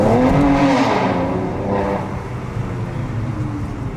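A Mercedes-AMG C 43 Coupe breaking traction on a wet road, its engine rising in a revving whine with tyre noise, loud and close, then easing into a lower rumble.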